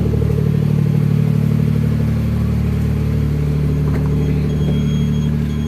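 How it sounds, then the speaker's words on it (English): Small Suzuki Carry truck engine idling cold just after a jump start, a steady close rumble with a light clattery tick running throughout, no voices. "we gave her a bit of a jump start and she's running"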